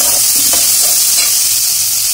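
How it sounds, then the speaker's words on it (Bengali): Pumpkin pieces being stirred and fried in a pan, a continuous close sizzle broken by a few soft scraping strokes of the spoon, with no voices. "এবার এইভাবে নেড়ে নেড়ে আমি একটু ভাজা ভাজা করে নেব।"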